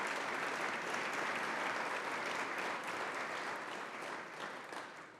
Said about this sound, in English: Let's give them a round of applause to thank them again.